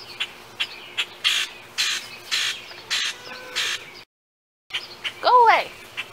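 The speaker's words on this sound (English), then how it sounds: "I'm pretty sure there is a bird that is stalking me" A bird, likely a crow, squawks repeatedly nearby in a steady series of harsh calls, then after a short silence lets out a louder, drawn-out rising caw.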